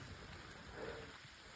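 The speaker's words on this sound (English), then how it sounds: "And now it's raining." Faint, steady rain falls in a forest, a soft continuous patter with a slight swell partway through and no voices.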